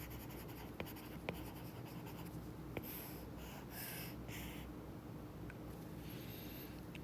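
A pen or marker writes out a math problem for a functional equation, making soft, continuous scratching strokes with a few faint taps. The sound is close and quiet over low background hum, with no speech.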